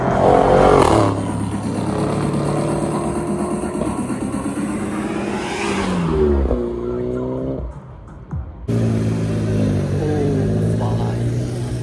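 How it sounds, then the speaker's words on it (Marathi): Cars and motorcycles at a drag race rev hard and accelerate past, loud rising engine whines with tire squeal, several passes close by in a hot dusty outdoor setting, with a few voices underneath. "काय नाद गाड्या आहे तिकडे"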